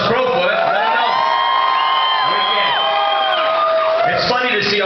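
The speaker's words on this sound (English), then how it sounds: "Give a nice round of applause, Crowfoot." Comedy club crowd cheering: loud, overlapping whoops and drawn-out shouts from many voices, sustained and close, with little distinct clapping beneath.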